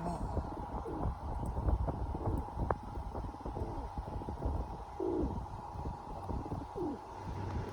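A pet bird gives soft, low coos, a few brief calls spread apart over a steady noisy background, with no talking.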